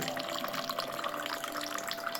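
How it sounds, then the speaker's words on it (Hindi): RO water is poured from a Glow alkaline water jug into a glass, a quiet, continuous trickling fill heard close up without speech. "ये जग जो ग्लो जग है, यहां से शुरू करते हैं पानी भरना"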